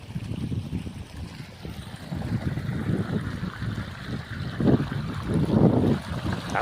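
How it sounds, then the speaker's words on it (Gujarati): Pumped water rushes through channels in a farm field, giving a continuous turbulent gurgling and splashing close by, with a low churning rumble and wind buffeting the microphone. "બતાવું તમને પાણી કેવું આવે ને"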